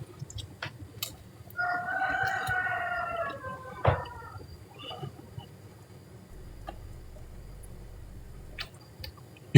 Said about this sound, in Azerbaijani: Ördəklərim, cücələrim var, acdılar.